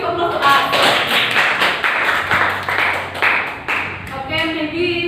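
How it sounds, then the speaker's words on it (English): Classroom applause from students after a lemongrass-bashing demonstration, a burst of clapping and tapping that runs steadily through the moment, mixed with some background chatter. "Give applause to us."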